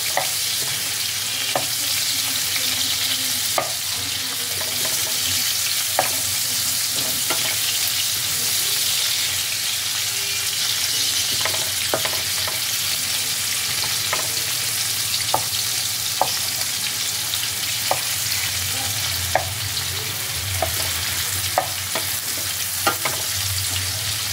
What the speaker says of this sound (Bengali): এবার পেঁয়াজটাকে তেলের মধ্যে ভালো করে ফ্রাই করতে হবে